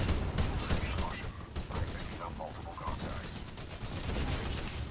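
Rapid gunfire in the shooter Titanfall 2 rattles steadily as enemies clinging to a wall are shot, a dense, fairly quiet stream of shots with game noise mixed in and a voice talking over it.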